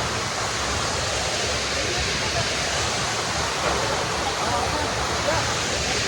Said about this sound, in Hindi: and look at the waterfall